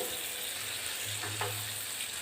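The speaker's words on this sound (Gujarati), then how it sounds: "હવે આપણે એની અંદર ક્રશ કરેલા ટમેટાં ઉમેરી દઈશું" Crushed tomatoes hit a pan of sautéed onions, producing a steady, fairly close hiss and sizzle with a light clatter partway through.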